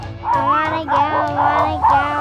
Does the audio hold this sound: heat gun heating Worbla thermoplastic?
no